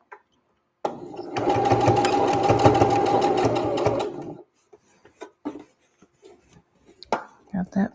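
A sewing machine stitching a sleeve runs steadily for about three and a half seconds, loud and close, then stops, followed by scattered small handling clicks and brief speech.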